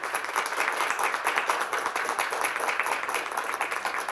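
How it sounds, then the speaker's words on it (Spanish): A small press conference audience claps for a congressional deputy, a soft, fairly even patter of hands at modest volume that carries on briefly with no speech over it. "Un aplauso, por favor"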